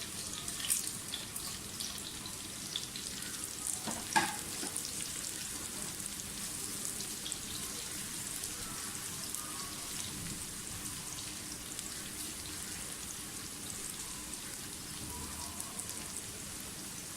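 Sliced onions fry in oil for mutton shorba as whole spices are added, making a continuous soft sizzle with a brief clatter early on.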